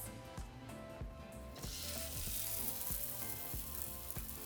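Gorditas de calabacita, cheesy zucchini corn cakes, sizzle steadily in hot oil, a loud dense frying crackle that swells after a quieter start and holds with rhythmic low thumps underneath.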